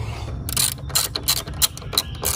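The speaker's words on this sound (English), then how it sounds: "now we can grab our ratchet and start ratcheting it" A ratchet tightening strut bar bolts on a BMW 340i, with rapid, close clicking bursts in uneven spurts of pawl ticks.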